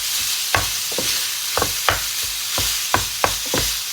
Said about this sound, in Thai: เราก็จะผัดเนื้อให้สุกก่อนนะคะ